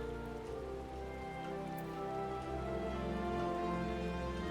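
Steady rain in the Final Fantasy XIV video game, heard in Gridania as a continuous hiss alone, with a low layered ambient drone and no talking.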